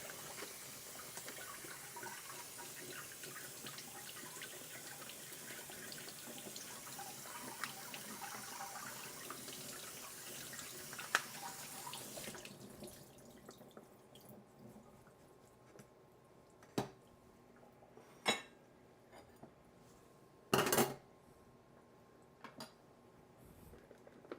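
Fruit rinsed under a running kitchen tap, a steady broad wash of water for about twelve seconds, then the flow stops and a few sharp clatters and handling knocks follow in a quieter room.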